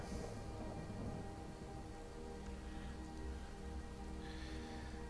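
Steady, quiet rain hiss with a faint patter in Skyrim Special Edition, continuous and even throughout, with low hum underneath.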